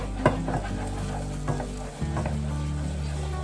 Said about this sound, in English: now stirring constantly. We're gonna continue with the cream, get that nice and scalded